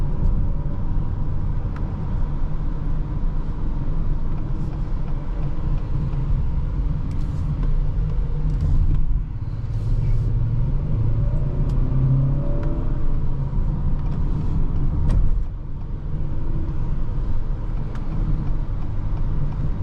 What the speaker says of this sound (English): Nice smooth acceleration, snappy gear shifts from that 10-speed.